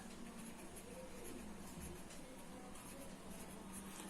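Handwriting on paper during a maths lesson, a faint continuous scratch of pen strokes under a steady background hiss, close and quiet.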